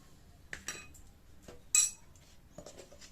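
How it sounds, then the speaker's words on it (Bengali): A spoon clinks and scrapes against a bowl while ground cumin and coriander are stirred together, producing sparse, quiet metallic taps with one brighter ringing clink, close by in a calm kitchen. "এবার গুঁড়ো মশলাটা আমি একটা বাটিতে ভালো করে মিশিয়ে নেব"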